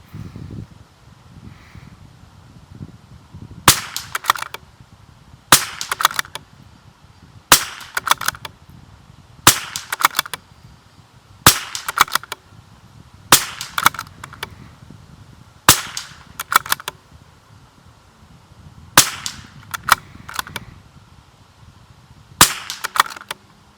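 Rifle shots fired at a 50-yard target on an outdoor range: about ten sharp, loud cracks spaced a couple of seconds apart, each standing alone over quiet field background.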